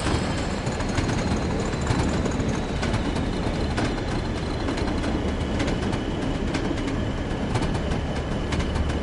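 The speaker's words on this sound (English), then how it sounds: "Usually there's a mail train that goes through." Mail train passing in the Train Sim World video game on a snowy route, a continuous rumbling roar with repeated clicking wheel-on-rail beats, steady and fairly close.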